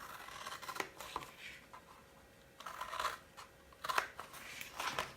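Scissors snipping through scored card for a dog kennel gift box, several short crisp cuts in quick bursts, close and quiet with pauses between.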